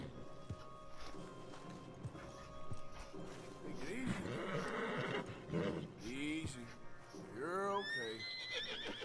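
A stallion in Red Dead Redemption 2 neighs and whinnies in several loud bursts over hoof sounds, with a voice speaking calmly in between.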